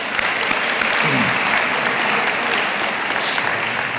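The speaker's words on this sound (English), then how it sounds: "Let's give it one round of applause." A full round of applause fills a high school football banquet, dense, loud and continuous clapping from a large crowd, sustained without a break for the whole stretch.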